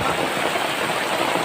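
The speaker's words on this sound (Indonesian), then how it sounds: "Hujan badak lah." Heavy rain pours down on a village yard, a dense, even hiss of water hitting surfaces that stays steady and fairly loud for the whole moment.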